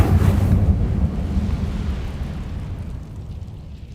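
An Incendio fire spell cast in Hogwarts Legacy: a loud, deep whooshing burst that rumbles and then slowly fades out over a few seconds, with no talking.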